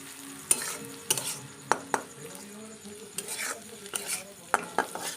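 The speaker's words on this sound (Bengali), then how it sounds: "একদম ঝুড়ি ঝুড়ি করে ডিমটা ভাজা হচ্ছে।" Egg frying with thin-cut shredded potato, onion and green chili makes a low sizzle broken by repeated sharp clinks and scrapes of a spatula against the pan.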